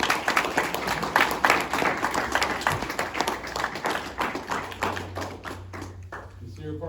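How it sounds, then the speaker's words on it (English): Applause at an Eagle Scout court of honor rises from the room in a brisk patter, strongest early and thinning toward the end, with a low hum underneath as it fades. "Give him a round of applause,"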